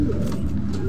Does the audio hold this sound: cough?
no